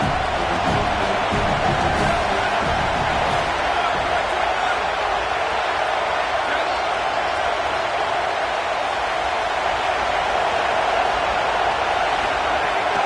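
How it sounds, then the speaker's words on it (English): A home crowd at a college football game in a video game roars continuously, a dense, loud, unbroken wash of cheering that holds steady throughout with no distinct voices standing out. "And how nice is it to have the home crowd going absolutely bananas?"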